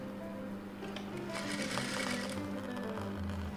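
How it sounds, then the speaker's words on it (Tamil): A sewing machine runs a reverse stitch on a blouse, its motor whirring steadily and close for the whole stretch, with a fine rapid needle chatter and no voices. "ரிவர்ஸ் தையல் விட்டுருங்க"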